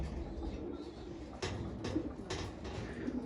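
Female pigeons coo softly in a tent-covered loft, with a few faint, low calls scattered over quiet background noise and a hint of nearby voices.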